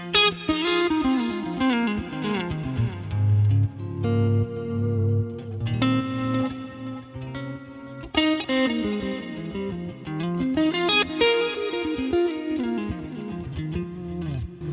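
An electric guitar plays through a screamer overdrive preset with reverb, giving a lightly driven edge-of-breakup tone. Notes and chords ring out with a reverb tail in a steady, continuous passage.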